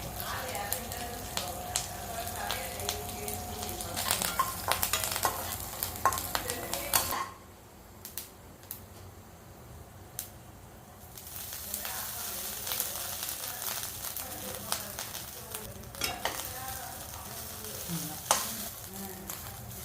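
Peanuts, chana dal, curry leaves and two dried red chillies fry in hot oil with a close, crackling sizzle. Spoon scrapes and clinks against the pan come and go, and the sound eases briefly midway before the sizzle picks up again.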